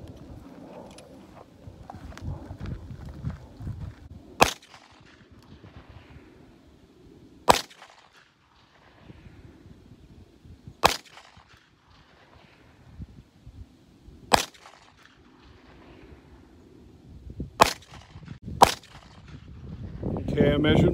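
Ruger Vaquero .357 revolver fired at a target about 24 feet away: six sharp, loud gunshot cracks spaced a few seconds apart, the last two close together, with quiet handling noise and faint talk in between.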